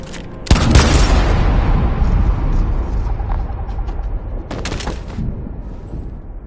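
Gunfire rings out in Detroit: Become Human: a loud burst of shots hits sharply near the start and decays into a long rumbling echo, then a second crack of gunfire comes around four and a half seconds.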